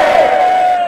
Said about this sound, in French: il y a même des messieurs qui ont crié